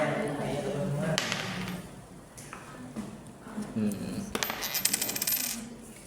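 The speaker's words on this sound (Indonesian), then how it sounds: "Kalau mau percobaan pakai koin nih, ada koinnya." Coin tossed and dropping in a classroom probability demonstration, a bright metallic clink and short ringing rattle as it lands and settles, heard under people talking nearby.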